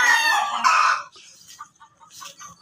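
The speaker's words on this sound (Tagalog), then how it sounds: "Ganda ng lahi ng manok ni JJP" A gamefowl rooster in a Philippine backyard breeding yard crows loudly and close for about a second, followed by fainter clucks and soft background sounds.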